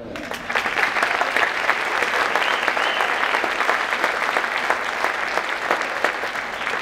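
An audience at a middle school seventh-grade academic awards ceremony applauds warmly, a dense, sustained wash of many hands clapping that continues evenly throughout, with a faint voice underneath.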